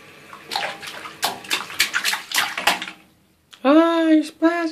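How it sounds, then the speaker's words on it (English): A child splashing water in a bathtub, a quick run of close sloshing splashes, followed by a loud child's squeal or shriek alone at the end. "Ah, you're splashing!"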